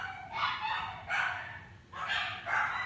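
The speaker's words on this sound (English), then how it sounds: "You guys are really about to hear my dogs barking so loud." Several excited pet dogs bark indoors at home as someone arrives, in a few bursts of barking with short gaps between them, heard at a moderate distance.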